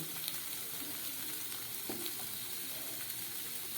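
Steady close sizzling of a spice paste frying in a pan for a Bombay duck fish curry, with faint stirring scrapes and no talking.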